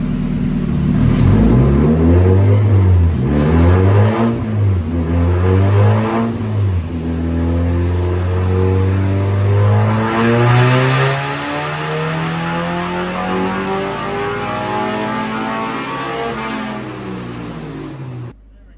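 A Spec Miata engine, freshly refreshed and being tuned, revs repeatedly up and down, loud and close, its pitch sweeping through rising and falling surges and then holding a steady high drone.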